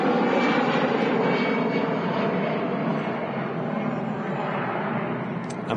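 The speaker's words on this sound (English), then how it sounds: "Rolling on the runway. It's an A320 with the sharklets at the end of the wings there." An Airbus A320 with sharklet wingtips rolls along the runway at Manchester Airport, its jet engines giving a loud, broad, steady roar that eases slightly over a few seconds, heard from a distance with no talking.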